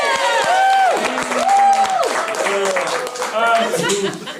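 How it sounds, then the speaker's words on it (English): Applause and cheering from a crowd greeting a special guest on a show, with clapping running under loud, sustained voices that whoop and call out over it. "Give a round of applause for our special guest, Wasting All the Time."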